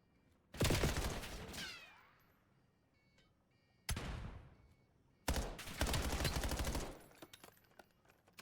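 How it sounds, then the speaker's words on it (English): Gunfire in a Call of Duty match, three loud separate bursts of rapid shots, the first decaying with a ringing tail before the next two close together. "Shots from Kez."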